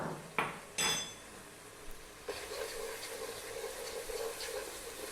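Rice with onions, masala and spices is stirred in a pot: two sharp metallic clanks of a utensil against the pot, then a soft, steady sizzle and scraping continue quietly.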